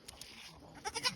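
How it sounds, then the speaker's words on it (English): A goat bleats in a forest setting, with a few quiet, brief calls near the end after soft rustling, all fairly faint and close. "There's the mama goat, the matriarch."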